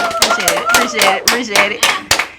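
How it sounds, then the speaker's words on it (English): A small group claps for Joi Giovanni in a radio station studio, a short run of distinct, fairly close hand claps in an uneven rhythm, with voices talking through it. "y'all please give a round of applause for Miss Joi Giovanni"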